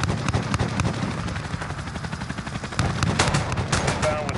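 A 30mm gunship gun run in Modern Warfare: rapid, loud bursts of heavy cannon fire rattling continuously, with a voice briefly heard over the barrage.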